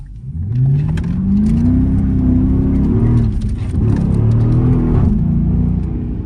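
A Dodge Charger RT accelerates through a corner, its engine note rising and falling in loud, close revving sweeps with a steady rumble underneath.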